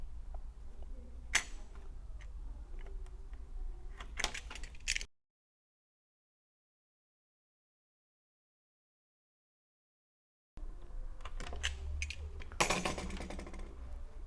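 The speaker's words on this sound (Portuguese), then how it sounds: "O corte ele pode ocorrer com auxílio de um estilete ou de uma tesoura." A utility knife slices a flexible rubber gasket for a heat exchanger plate, giving faint, close, irregular clicks and scratchy snips in two bursts separated by a long silent gap.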